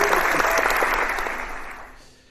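Audience clapping for a person named Richard: a dense burst of applause from a crowd, steady and fairly loud, then fading out toward the end.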